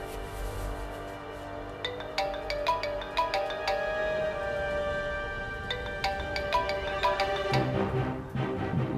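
A phone ringtone plays repeatedly as a bright electronic melody, fairly loud and steady, with no talking over it.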